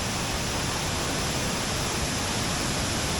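A North Woods waterfall at the bottom of a long stairway hike, a loud, constant broadband roar of falling water filling the scene evenly with no breaks and no voices.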